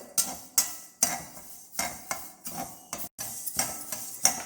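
Fenugreek seeds roasting dry in a pan for sambar podi, stirred with a utensil in a steady run of about ten scraping, rattling strokes, close and clear with no talk.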